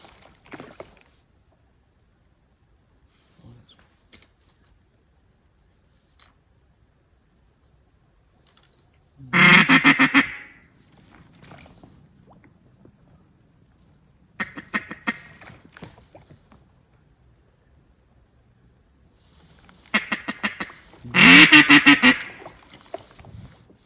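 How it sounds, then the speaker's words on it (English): Ducks call in loud honking bursts at a Mississippi Delta wood duck hunt, several separate outbursts spaced apart over near silence, with faint clicks in between. "That's birds."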